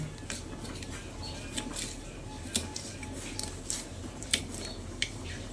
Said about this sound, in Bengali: তারপর লঙ্কাগুলোকে একটু মিহি করে কেটে নিচ্ছি।